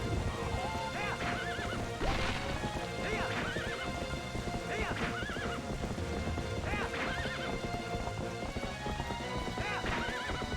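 In Zelda: Twilight Princess, a horse whinnies repeatedly and its hooves clip-clop steadily throughout, with a player talking over the game sounds and a constant rain-like hiss behind.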